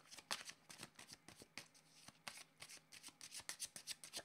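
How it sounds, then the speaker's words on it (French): Tarot cards being shuffled by hand, a quick series of soft riffling snaps in irregular bursts, close and quiet with no talk. "j'ai mélangé plein de cartes ensemble"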